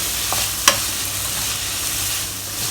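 Sliced tomato pieces fry in a non-stick pan with a steady, even sizzle, broken early by a couple of brief spatula taps as they are stirred.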